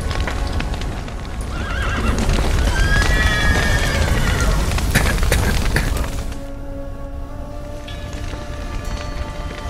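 Horses in The Witcher 3 video game whinny and neigh several times over the clatter of hooves and background game noise, loud and close, with speech mixed in at moments.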